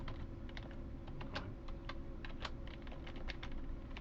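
Steady fast typing on a computer keyboard while a short code is entered, many close, crisp key clicks in quick succession over a constant low background hum, with no voices.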